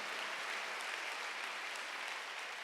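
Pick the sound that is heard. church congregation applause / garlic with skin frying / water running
church congregation applause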